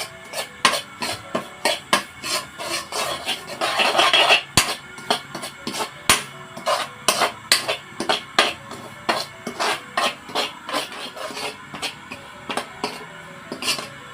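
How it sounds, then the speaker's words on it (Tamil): Semolina (rava) roasting in ghee for rava palkova, stirred with a utensil scraping the pan in quick irregular strokes, sharp close clinks and rasps with a brief louder rubbing burst midway. "ரவா நல்லா வறுக்கணும், வறுக்காமல் பண்ணிடாதீங்க"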